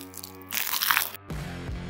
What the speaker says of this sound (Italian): Però non ho morso solo il bacon,